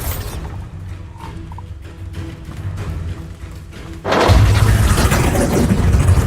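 A Bombarda explosion spell in Hogwarts Legacy: after a few seconds of quieter combat noise, a loud, sudden blast bursts in and settles into a sustained roaring rumble that lasts to the end.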